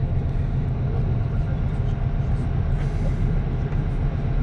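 Steady, loud rumble of a passenger train running through Poland, heard from inside the carriage, with continuous low-frequency rolling noise and faint rattling and no speech.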